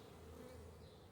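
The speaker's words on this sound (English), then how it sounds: "they play like bees" Bees buzzing steadily inside a bee cave, a dense, continuous droning hum close by with no talking.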